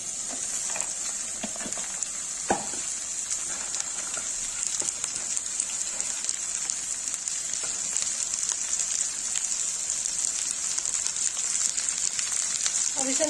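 Okra is added to fried onions in a pan, and a steady loud sizzle hisses throughout with a few brief clatters of stirring.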